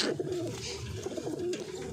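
A Murshidabadi pigeon coos close by in a low, rhythmic series of throaty calls, repeating steadily without any talking over it.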